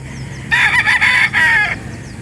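A seven-month-old Moneymaker Dome bloodline gamefowl rooster crows once, loud and close, in a single drawn-out call of about a second and a half at a chicken market in Calauan, Laguna, over a low background murmur.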